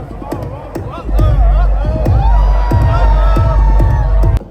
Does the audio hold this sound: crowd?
yes